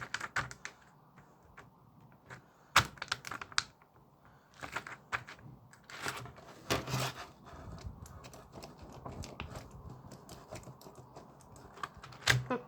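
Clicky keystrokes tap out on a laptop keyboard nearby, irregular bursts of typing with a few sharper clacks, fairly quiet and with no talking.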